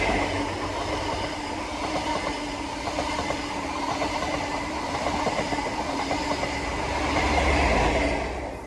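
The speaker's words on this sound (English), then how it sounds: "a cross-country HST running from Edinburgh to Plymouth" A CrossCountry HST passenger train runs through a station, a continuous loud rumble of engine and wheels with faint clickety-clack, swelling slightly near the end.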